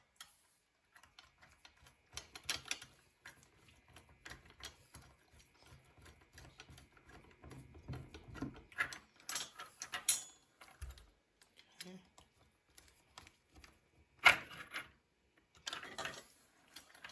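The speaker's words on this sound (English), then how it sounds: "you just take your number 2 Phillips and evenly tighten them up." A number 2 Phillips screwdriver tightening screws on the frame of a Lionel Rocket Fuel Tank model train car, with quiet irregular ticks, scrapes and clicks close by and short pauses between bursts.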